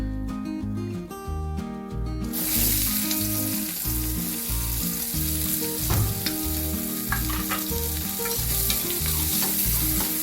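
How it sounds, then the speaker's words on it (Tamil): Onions sizzle and fry in hot oil for pudina kurma, a loud, close, continuous crackle with stirring scrapes, preceded briefly by a rhythmic tune before the frying takes over. "அது பொரிஞ்ச உடனே நான் வெங்காயத்தை ஆட் பண்ணுறேன்."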